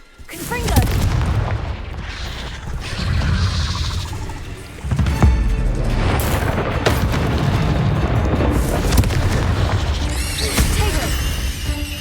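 Confringo blasting curse in the Hogwarts game: repeated heavy booming explosions with crashing debris and rumbling, sustained and loud across many seconds, with a sharp fresh blast midway and sparkling magical effects near the end.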